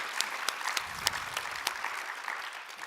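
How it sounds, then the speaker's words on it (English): An audience applauds, with many hands clapping together in a dense, lively patter at moderate volume. "Let's give a round of applause"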